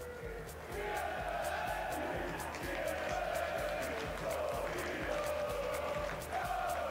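Crowd in a fight arena applauding and cheering the two fighters, a steady wash of clapping and shouts beneath a loud announcer speaking over a PA.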